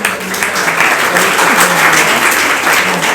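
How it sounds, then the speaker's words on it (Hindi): Loud, sustained audience applause at a Hindi comedy poetry event (hasya kavi sammelan), dense clapping filling the hall from start to finish. "एक बार जोरदार तालियां बजा दीजिए।"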